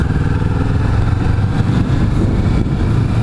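Kawasaki Vulcan S650 motorcycle engine and exhaust running steadily, a loud, continuous low throb with a slight rise in revs midway, up close and without any talking.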